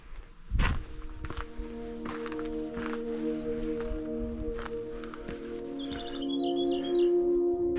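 Small birds chirp in a quick run of short, high notes near Jangteomok mountain shelter on Jirisan in Korea. The chirps come late and moderately faint, over footsteps and a steady low hum.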